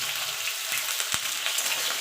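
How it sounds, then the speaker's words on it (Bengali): Potatoes and pointed gourd fry in oil with a steady, close crackling sizzle, broken by a few sharper pops and one short louder clatter near the middle. "পটলটা লাল লাল করে ভেজে নেব।"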